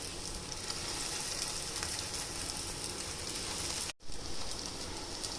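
Soya, vegetable and paneer cutlets coated in breadcrumbs sizzle in hot oil in a kadai over a medium flame, a dense, steady crackle throughout with a brief gap near the end and no talking.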